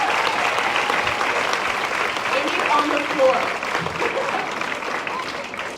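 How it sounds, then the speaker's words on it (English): An audience at a film Q&A event claps in sustained, even applause, fairly loud and dense, while a voice speaks briefly over it. "I have to give you a round of applause."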